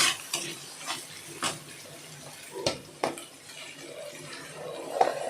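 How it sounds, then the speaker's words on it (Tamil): Vegetables being added and stirred in a cooking pan for a drumstick vegetable kurma, with tomatoes already softened; close metal scrapes and clinks of a spoon against the pan recur over a soft sizzle. "இப்போ நம்ம வந்து காய்கறியை சேர்த்துக்கலாம்"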